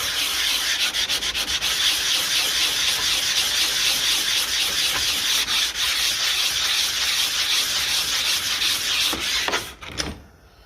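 Hand sanding of a carburettor part from a 1955 Ferguson 20 TED TVO tractor with sandpaper, a continuous close rasping scrub with rapid back-and-forth strokes that stops abruptly at the end.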